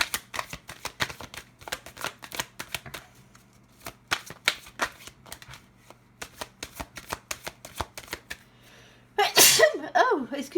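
Tarot cards drawn out and shuffled close by, a rapid run of crisp flicks and slaps that pauses and resumes, ending with a sneeze.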